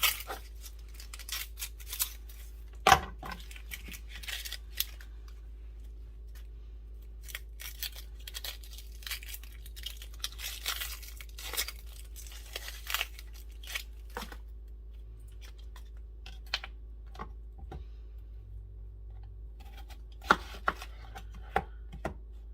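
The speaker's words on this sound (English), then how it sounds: "Now I'm going to dice a large onion." A knife dices a large onion on a board, a long run of quick, crisp, irregular taps and chops, close and clear with no talking.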